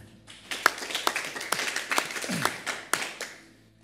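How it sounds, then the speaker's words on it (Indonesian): Church congregation clapping hands during a sermon, a series of sharp, fairly close claps in uneven rhythm that fade toward the end, with a brief voice in between. "Yang ngerti tepuk tangan dulu."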